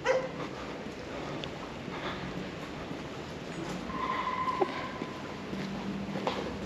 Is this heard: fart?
no